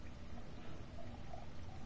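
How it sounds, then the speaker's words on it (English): A character urinates in the video game Heavy Rain, a steady, soft pouring trickle of liquid that runs continuously and fairly faintly, without talk. "Well, I'll have a quick pee."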